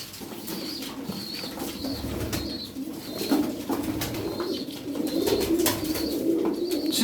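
Several pigeons coo at a bird stall, repeated rolling calls layered over one another with occasional wing flutters, moderately close and continuous.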